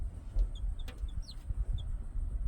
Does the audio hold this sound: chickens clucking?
yes